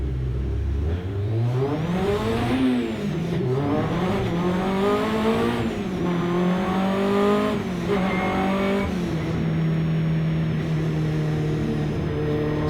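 A 750MC hot hatch race car on the green flag lap at Silverstone, heard from onboard as its engine revs climb and fall through gear changes, loud, sustained and close throughout with no talk.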